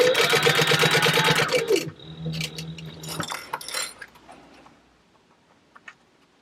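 A sewing machine stitches a bag panel at stitch length 3, running steadily and loudly for about two seconds, then slowing into scattered ticks and clicks that fade to near silence.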